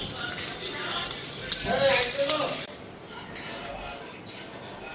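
Eggs fry in a pan with a soft sizzle and some stirring scrapes, stronger for the first half and then quieter, as a person speaks over it.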